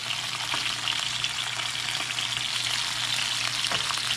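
Chilean sea bass pan-sears in a hot pan, giving a loud, dense, continuous sizzle up close with faint crackles and no speech.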